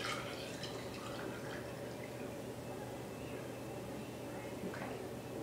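Water is poured from one glass into another during a child conservation experiment, a faint trickle and dripping under steady room noise, quiet and close.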